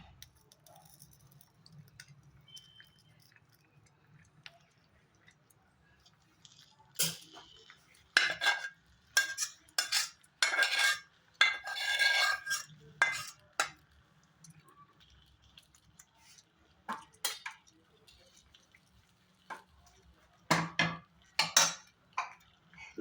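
A spoon scrapes and clinks against a steel plate as cooked vegetable sabji is served onto it. Bursts of sharp metallic clatter come and go, with quiet stretches between them.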